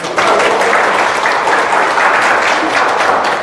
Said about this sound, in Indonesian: Tepuk tangan dong buat TR90